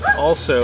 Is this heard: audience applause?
no